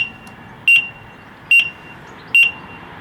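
Three short electronic beeps from an Eskuta SX250 electric bike's indicators at a steady, unhurried pace, each a bright high tone standing out clearly over a low background hum.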